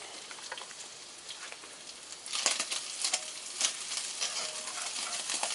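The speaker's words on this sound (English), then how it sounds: "Turn the sausage down. It's pretty much done. Need to stir it." Sausage fries in a cast iron pan with a soft, continuous crackling sizzle, and a plastic fork scrapes and stirs it, growing busier partway through.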